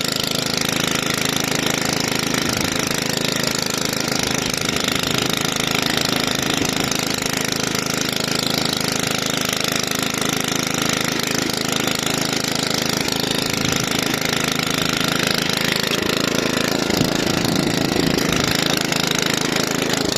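An Oleo-Mac 155K petrol cultivator engine runs continuously and loudly close by, a harsh rattling buzz that holds steady throughout with slight load changes as it works the soil, no talking.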